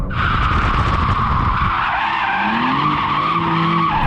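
BMW M4 Competition tyres skid and squeal loudly and close, a sustained high screech over rumbling engine noise, with the tone shifting partway through as the car slides, alone without talk.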